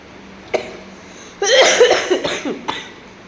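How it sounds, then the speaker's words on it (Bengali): A woman coughs in a close, dry fit: one sharp cough, a pause, then a longer run of several rapid coughs and a final single cough, with no talk around them. "আমার কাশিটা মোটে কমছে না,"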